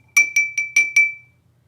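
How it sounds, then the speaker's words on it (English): Ice stirred in an Old Fashioned cocktail glass, giving five bright ringing clinks in quick, even succession, close and clear with nothing else audible. "This you can kind of give a good healthy stir, about 30 seconds."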